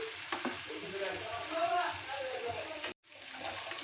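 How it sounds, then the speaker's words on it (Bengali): Goat head meat frying in a pan with potatoes about to be added, a steady sizzle with stirring scrapes throughout, a brief dropout near the end, close and fairly loud. "মাংসটা এখানে ভাজা হয়ে গেছে,"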